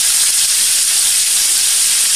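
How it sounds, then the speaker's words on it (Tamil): A whole raw mango sizzles in oil for pickle, giving a loud, steady, dense frying hiss throughout with no voices. "இந்த மாங்காய் இந்த எண்ணெயிலேயே வதங்கணும்."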